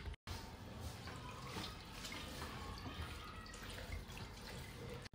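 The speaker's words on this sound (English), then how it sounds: "And now I'm going to drain it again." Water drains steadily from a kitchen tap or sink while sushi sauce is being made, a faint, continuous close splashing with small drips and no talking.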